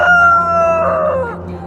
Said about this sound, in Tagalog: Manok to, no?